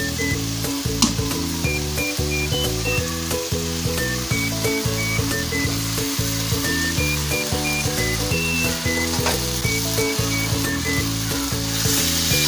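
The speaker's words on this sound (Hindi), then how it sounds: "चिकन हमारा कुक हो गया है और अब हम इसके अंदर मैक्रोनी ऐड करेंगे" Boiled macaroni goes into a pan of sizzling spicy chicken and vegetables, making a loud, continuous sizzle and fry with the clatter of stirring throughout, close up and without speech.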